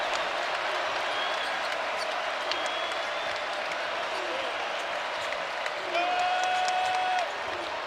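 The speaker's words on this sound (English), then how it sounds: "the crowd is starting to pick it up in Rupp Arena" A steady roar fills Rupp Arena as the Kentucky crowd gets louder during a college basketball game against Texas. The dense, even wash of voices carries a few faint high squeaks over it.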